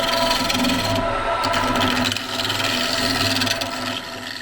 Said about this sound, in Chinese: 原木在机台上奋力旋转，接着手工细细打磨，伴随着木屑飞舞